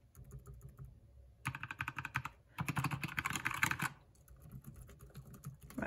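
A Keychron K2 mechanical keyboard clicks in two quick bursts of typing, fast, close keystrokes separated by quieter pauses, with no voice.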